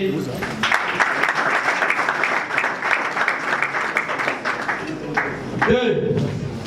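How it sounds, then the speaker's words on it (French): Audience applause at a political party gathering announcing officials, a dense steady wash of many hands clapping throughout, with voices and crowd noise mixed in beneath. "Applaudissez."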